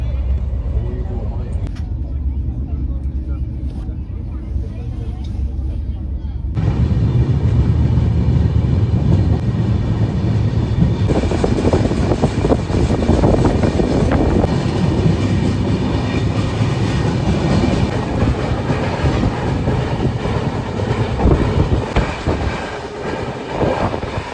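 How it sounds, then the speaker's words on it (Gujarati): A passenger train pulling away from a station, a steady low rumble of the carriages building into continuous rolling noise and rattling, with people chatting nearby throughout. "ટ્રેન હાલતી થઈ ગઈ છે હવે."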